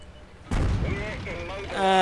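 One heavy tank cannon shot in the World of Tanks game, from a Matilda Black Prince, a sudden deep boom with a rumbling tail and game sound effects ringing after it.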